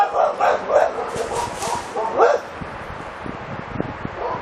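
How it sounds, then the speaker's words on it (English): A neighbouring dog barks several times in quick yips and bow-wows, fairly close and loud, then falls quiet while faint background noise continues. "She's over there telling the dog next door to knock it off."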